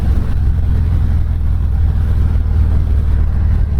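A Harley-Davidson Dyna Low Rider S V-twin rumbles steadily and loudly up close, its exhaust a deep, continuous low burble with no talk over it.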